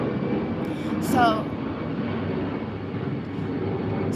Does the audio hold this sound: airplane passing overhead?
yes